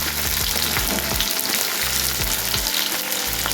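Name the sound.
chopped onions and garlic frying in a pan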